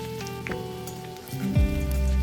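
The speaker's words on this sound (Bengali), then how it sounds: "কোচানো আদা আর কোচানো রসুন তেলের ওপরে দিলাম" Crushed ginger and garlic dropped into oil in a wok for gobi Manchurian, a soft sizzle that swells sharply into a louder, steady frying hiss near the end, with a faint background hum.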